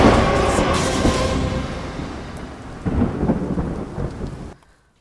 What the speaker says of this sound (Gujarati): હાલ ઓસમ ડુંગર પર ધોધમાર વરસાદથી નયનરમ્ય નજારો જોવા મળી રહ્યો છે.